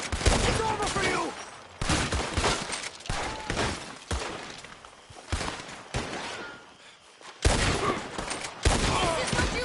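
Gunfire in the Red Dead Redemption 2 video game, with repeated volleys of loud, sharp shots in dense bursts interrupted by brief lulls, and voices shouting over the shooting.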